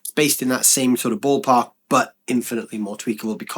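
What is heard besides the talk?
No distinct noise like a dog, phone or traffic.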